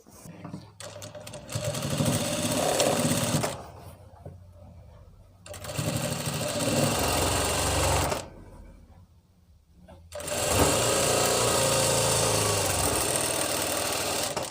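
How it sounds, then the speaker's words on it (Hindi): A sewing machine stitches a seat seam on ladies' ankle-length palazzo pants, running in three loud, steady bursts of rapid mechanical whirring with short quiet pauses between them. "और आसन की भी हम सिलाई कर लेंगे अब"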